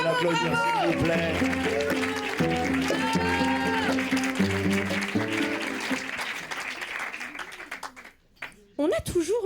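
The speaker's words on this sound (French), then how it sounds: "l'applaudir, bravo." An audience at a comedy show in Marseille applauds, a broad wash of clapping that runs under music and voices and then fades toward the end.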